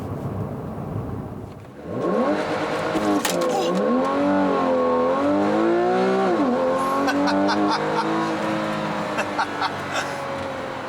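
The engine of a 2015 Porsche 911 Carrera S rises sharply from a low idle into loud, rising and falling revs through the gears while driving, close and continuous, with a voice speaking at times.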